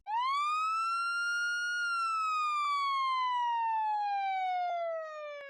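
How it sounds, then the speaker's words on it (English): Barbados police car siren wailing alone and loud, a single long tone that sweeps up then slowly glides down across the whole stretch. "Barbados Police."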